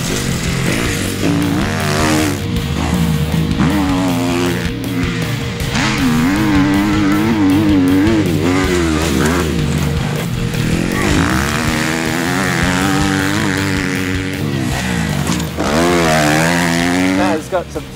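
A dirt bike engine revs hard and climbs high through the gears, loud and sustained with rising and falling pitch sweeps, running continuously from start to finish with no break.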